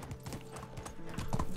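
Rapid, rhythmic clip-clop of horse hooves during riding in Medieval Dynasty, steady galloping beats on a dirt path, close and continuous with faint ambient sounds.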